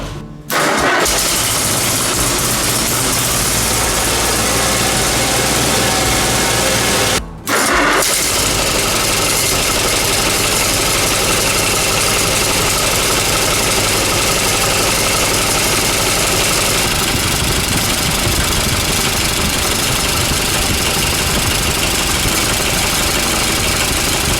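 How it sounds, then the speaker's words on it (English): Tractor engine with a manifold leak cranks and catches, cuts out briefly, then restarts and keeps running with an uneven, rough knocking idle, loud and close. "fire this thing up and see if it is pumping oil"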